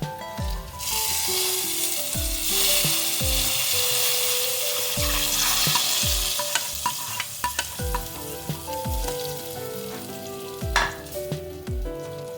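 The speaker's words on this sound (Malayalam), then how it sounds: "അങ്ങനെ കറിവേപ്പില ഉള്ളിയെല്ലാം മൂത്തിട്ടുണ്ട് ഇനി നമുക്കിത് കറിയിലേക്ക് ഒഴിക്കാം" A hot tempering of curry leaves and onion poured into a mackerel fish curry crackles and sizzles loudly, followed by repeated close scraping and clinking strokes of stirring in the pan, with no talking.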